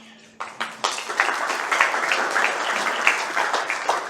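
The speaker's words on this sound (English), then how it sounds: "we'll hang off with the applause for a bit later" Scattered hands start clapping, then build into full audience applause at a Rotary environment day luncheon, a steady, moderately loud patter with no talk over it.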